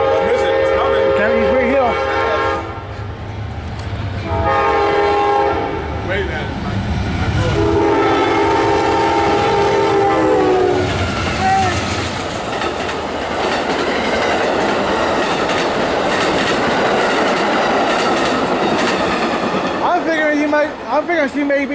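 Amtrak passenger train passing close by, sounding its horn in several long blasts over a heavy rumble, then steady rolling clatter of wheels on rail continuing after the horn fades.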